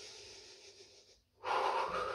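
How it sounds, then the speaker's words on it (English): A deep, forceful exhale during a Pilates ab breathing exercise, a steady breathy rush that follows a brief pause after a softer, sustained breath, heard up close with no talking. "Breathing in for 5. Breathing out for 5."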